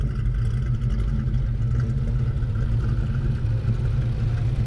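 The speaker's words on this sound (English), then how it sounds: "Here's a nice clip of the audio of all these different cars. They're all idling right now." Several modified V8 cars idle together, including a 460 and a 351 Windsor with aftermarket cams, producing a loud, steady, continuous low rumble with a lumpy rhythmic pulse throughout, no talking.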